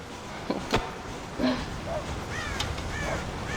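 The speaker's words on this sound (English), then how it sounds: "God damn crows!" Crows caw in Red Dead Redemption near a farm silo, with a few scattered, fairly faint calls over steady game ambience.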